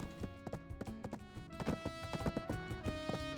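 Horse hooves clip-clopping at a run in a video game, the horse charging down stairs; quick, steady hoofbeats close up over faint game music.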